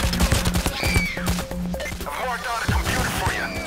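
Rapid automatic gunfire from the video game Payday The Heist rattles in dense, repeated bursts, with a few brief gaps, loud and close throughout, with faint voices mixed in.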